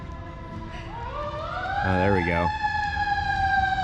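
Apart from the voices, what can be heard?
fire engine siren passing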